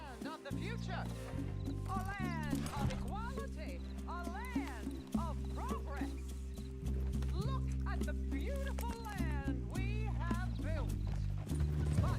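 Horse hooves clop rhythmically in the Red Dead Redemption 2 video game, a steady gallop under continuous dialogue and music, with an occasional whinny.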